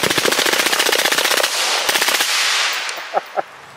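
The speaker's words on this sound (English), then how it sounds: "Now let's hear it with a suppressor on." Rapid bursts of automatic fire from an M16 rifle with a suppressor, a fast rattling stream of muffled shots, then a couple of isolated single shots near the end.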